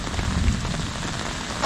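Heavy rain pours steadily onto a village road in Kerala, a dense, even hiss close around with no break.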